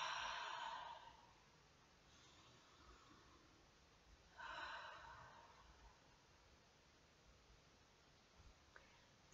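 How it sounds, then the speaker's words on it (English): Deep breaths taken during a tapping exercise, two clear breathy exhales a few seconds apart, soft and close in an otherwise quiet room. "Deep breath."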